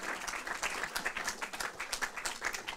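A cinema audience applauds after a film screening with a post-film discussion. The clapping is dense and steady, fairly soft and somewhat distant, with no voices over it.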